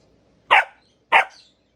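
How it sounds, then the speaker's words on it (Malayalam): A pet dog named Tyson barks twice, loud and close, two sharp separate barks about half a second apart with quiet in between. "എന്നെ കുരയ്ക്കാതെ അങ്ങനെ."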